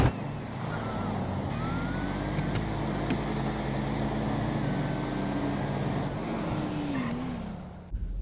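Engines roar steadily in a GTA V street-racing drag race, a sustained revving drone with sliding pitch and brief sharp clicks, continuous for several seconds.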